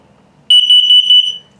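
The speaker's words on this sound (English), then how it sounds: "LP, now carbon monoxide coming up." A single loud, shrill carbon monoxide detector test tone in a 2021 Flagstaff Micro Lite 25FBS camper sounds for about a second, a steady high beep with slight pulsing, then cuts off.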